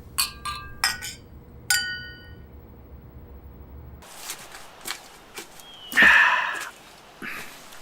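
Glasses clink together in a toast at a gathering, a few bright, ringing taps close by in quick succession, followed by quieter shuffling and one louder burst of noise.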